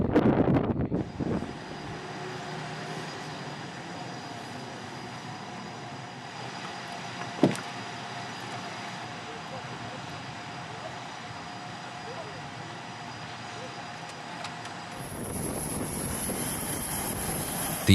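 A fighter jet engine runs on an aircraft carrier flight deck, holding a steady whining roar with one sharp crack midway before the sound shifts to a brighter, harsher hiss near the end.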